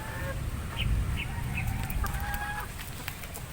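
A chicken clucks several times in short calls over steady outdoor background noise, moderately close, with no one speaking.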